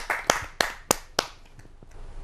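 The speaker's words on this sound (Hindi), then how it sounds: "आशु कवि केपीएस चौहान जी को, आपकी एक जोरदार तालियों से" A handful of sharp hand claps, about five, scattered unevenly and trailing off quickly, as from a small audience.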